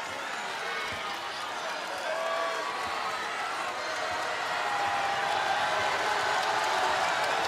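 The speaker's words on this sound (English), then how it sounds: "Crowd imploring the Gonzaga defense for a stop" A basketball arena crowd at a Utah vs Gonzaga NCAA women's game roars steadily in support of the Gonzaga defense, a sustained wash of cheering and noise with no pause.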